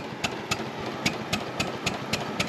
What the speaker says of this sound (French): il y a même un pot d'échappement en fait, c'est vraiment un moteur, ça propulse quoi